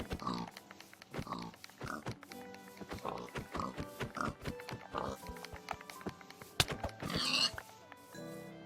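Video game pigs oink and grunt in a steady series of short snorts, close and fairly loud, with bits of other game noise mixed in.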